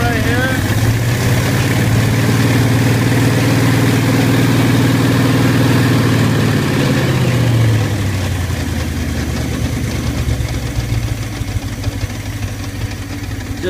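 A small engine drives a Hale irrigation water pump, running steadily and loud at close range, with a deep constant drone that shifts lower partway through. No one talks.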